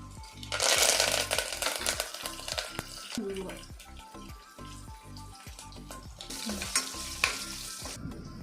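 Green chilies and curry leaves sizzle in hot oil for function-style sambar, a loud crackling burst as they hit the pan, then steady frying with stirring and a second surge of sizzling near the end.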